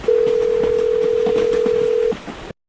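A telephone dial tone hums loud and steady for about two seconds while someone tries to call for help, then cuts off abruptly, leaving faint background noise.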